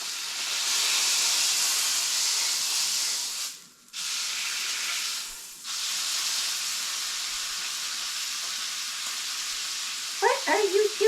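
Roast beef seasoned with steak spice searing in a pan, giving a loud, steady, close sizzle and hiss that briefly dips twice and then resumes. A voice speaks briefly near the end.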